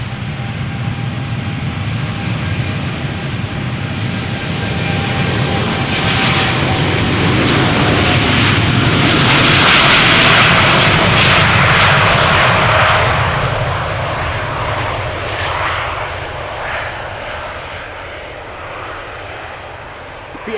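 A Boeing 787-10 Dreamliner jet takes off at Amsterdam Schiphol, its loud engine roar building to a peak midway and then slowly fading as it climbs away, with no voices.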